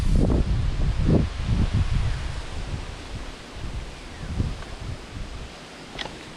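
Wind gusts through foliage with a steady, airy rustle, rumbling against the microphone at first and then easing to a softer hiss.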